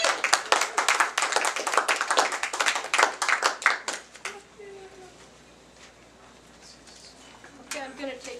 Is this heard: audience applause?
yes